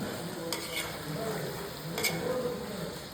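Biryani masala stirred in a hot pan, with a steady low sizzle and a few sharp scrapes and clinks of a spoon against metal, quiet and close.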